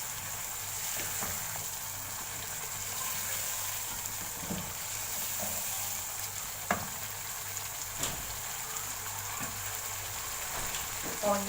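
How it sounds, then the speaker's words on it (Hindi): Potatoes frying in a pan for aloo anday ka salan, a steady soft sizzle with occasional faint clinks of stirring, close and fairly quiet. "अब इसमें डाल दूंगी मैं ये आलू। इसको अच्छे से भून लूंगी मैं।"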